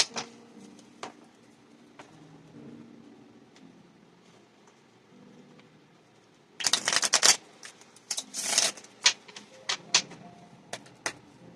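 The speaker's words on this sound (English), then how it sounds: "Let me do one shuffle on this deck." Tarot cards riffle and snap in a few quick bursts after a quiet stretch, crisp and close, with scattered light taps between.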